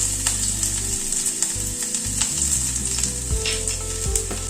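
Chopped garlic, five or six cloves, fries lightly in about two tablespoons of oil with a loud, continuous close sizzle and occasional stirring scrapes, alone without talk.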